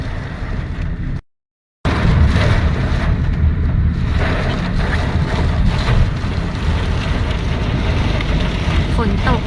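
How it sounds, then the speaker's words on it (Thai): Steady broadband hiss of rain, close and loud, with wind buffeting the microphone and a brief dropout early on. "ฝนตกระหว่างเดินทางกลับบ้าน เย็นสบายชุ่มฉ่ำเลย"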